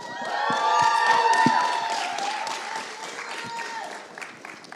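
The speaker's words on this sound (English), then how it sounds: "Can we give them another round of applause?" An audience at a talk event applauds speakers returning to the stage, a sustained wash of clapping with some cheering, while a voice talks over it and the applause gradually thins toward the end.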